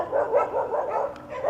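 Dogs bark in a string of repeated barks and yips near a well at a pumping station, fairly close and steady, with no talk over them.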